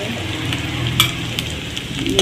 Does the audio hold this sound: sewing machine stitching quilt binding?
no